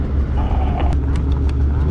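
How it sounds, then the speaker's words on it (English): A Khaos 9R 325 engine idles a little high, giving a steady, close low rumble that holds even throughout with a few faint higher ticks over it. "The idle seems a little high."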